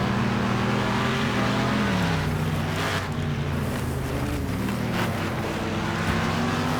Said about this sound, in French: On entend un bon bruit de V8 à côté.